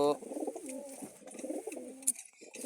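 Imported-bloodline pigeons coo in soft, throaty bursts through a quiet room, several overlapping calls with a brief sharp click partway through.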